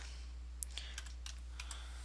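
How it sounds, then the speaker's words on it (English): A password typed on a computer keyboard: a handful of soft, separate key clicks in an irregular rhythm, faint against a steady low hum. "So I'm going to type in"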